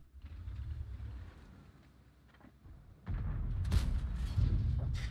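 A Leopard PTA tank cannon fires in World of Tanks: a heavy, booming blast kicks in partway through, followed by a loud, rumbling roar over the game's engine drone.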